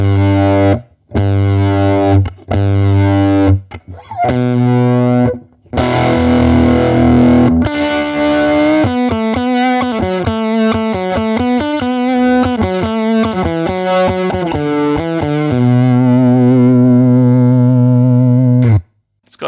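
Birdsong Kestrel guitar amp with built-in fuzz, played loud and saturated: chugging low chords and rhythmic stabs, then a run of fuzzy single notes and bends ending on a long sustained note that cuts off.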